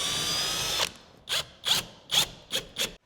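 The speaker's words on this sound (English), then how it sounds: "we should probably drill a pilot hole" A power drill bores a pilot hole for mounting a vent cover in a newly built house: a steady whine for almost a second, then five short, close bursts of drilling with brief pauses between them.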